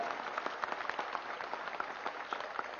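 Audience clapping for the Pyramid Sevadal volunteer team at a Dhyana Mahayagnam gathering, a quiet, steady patter of many hands with scattered sharper claps, continuing evenly with no voices.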